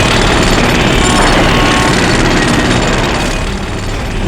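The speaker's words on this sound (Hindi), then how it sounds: "तुम्हारे घर के बाहर मेट्रो कंस्ट्रक्शन के काम चलने की आवाज" Loud metro construction work outside a house, a jackhammer rattling continuously in dense rapid bursts that fill the soundscape, harsh and close, easing slightly near the end.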